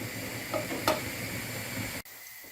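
Minced meat frying in a pan for a meat sauce for spaghetti, a steady close sizzle with a couple of brief stirring clicks, cutting off abruptly near the end.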